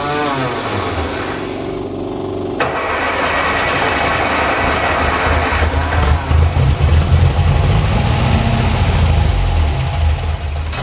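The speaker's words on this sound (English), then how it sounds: "Now it's time to see if the car will run for the first time since I've owned it" A 1960 MG MGA 1600 Roadster engine fires up on fuel from its own tank and settles into a loud, steady, rough idle close by, with throttle blips toward the end.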